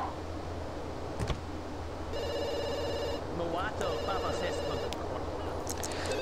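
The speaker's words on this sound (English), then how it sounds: "The phone needs to shut the hell up." Electronic telephone ringing in The Sims 2, a repeated trilling ring in two bursts over a steady low hum of game background sound.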